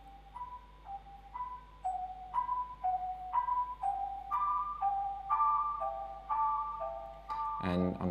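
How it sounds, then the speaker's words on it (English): A sampled bell melody from Labs rings out dry without formant processing, a slow sequence of clear, evenly spaced tones stepping up and down, alone and fairly quiet, with a brief thump near the end. "These bells are from Labs as well."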